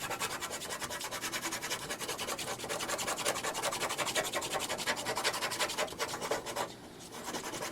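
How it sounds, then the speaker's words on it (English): A pencil rubbing and scraping across a glossy surface as it is worn down, giving a steady dense rasp of rapid strokes throughout, close and continuous, with a brief pause near the end. "This is sort of a glossy thing, so it doesn't write too well on it, but we'll just wear it down."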